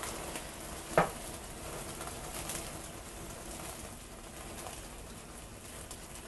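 Chicken sizzles in a pan on a stove as brandy or cognac is ignited and shaken back and forth, a soft, steady crackling hiss with one brief clack near the start.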